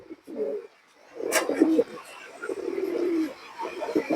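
Flying pigeons coo softly in low, throaty calls, near and repeated, with some faint chirping around them; someone talks nearby at moments.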